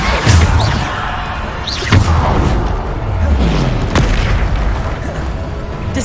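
Bombarda spell explosions in the Hogwarts Legacy video game, a series of deep booms roughly every second or two over constant loud game noise, with a voice speaking between blasts.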